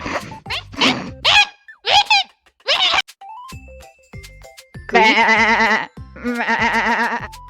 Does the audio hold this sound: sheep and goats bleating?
yes